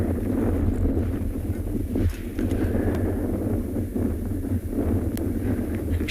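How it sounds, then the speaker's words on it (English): Steady, strong wind buffets an outdoor microphone on an afternoon safari drive in South Africa, a continuous roaring rush with gusty swells throughout and no talk. "I'm sure you can hear the wind."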